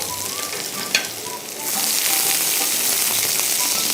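About half a cup of chopped onions fries in a pan, a soft sizzle that swells into a loud, steady hiss partway through, with a light clink of stirring.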